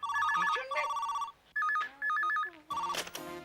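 An electronic telephone bell rings in a household scene, its trilling warble sounding in bursts separated by short gaps, with clattering noise and faint background sound in between.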